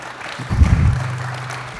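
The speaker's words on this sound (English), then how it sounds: "You need to give these guys a round of applause." Applause from a business conference audience, a short swell of clapping that rises briefly and then fades into room noise.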